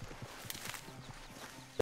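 Horse hooves clip-clopping in a video game set around Armadillo, an even series of soft, fairly quiet hoofbeats at a walking pace, ending in a brief louder knock.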